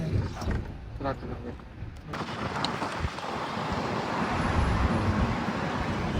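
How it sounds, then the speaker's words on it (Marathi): A car drives through road traffic en route to a political rally, giving a steady broadband rumble and hiss that builds slightly in loudness, with faint background voices. "भैया स्ट्रॉंग गाडी चालवायला."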